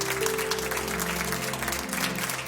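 Studio audience applause on a Spanish television show, a steady dense clapping wash held for the whole stretch over a low electronic hum.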